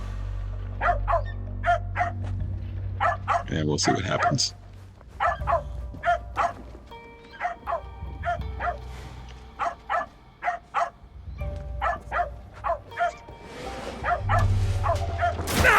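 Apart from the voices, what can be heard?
dog barking in video game Assassin's Creed Shadows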